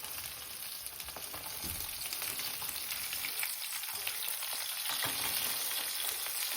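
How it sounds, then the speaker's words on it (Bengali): Fish pieces frying in hot oil in a pan, a continuous loud sizzle with crackling spatter throughout, no voices. "তো দেখো এখানে মাছ ভাজা হয়েছে"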